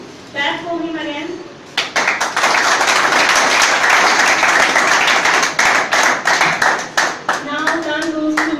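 An audience at a school presentation event claps loudly and steadily for several seconds after a talk ends, with a speaker's voice briefly heard before and after the applause.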